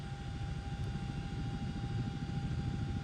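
Chinook helicopter of the RAF idling in the X-Plane 11 flight simulator game, a steady, unbroken engine and rotor drone with a faint whining hum riding on top, even in level throughout.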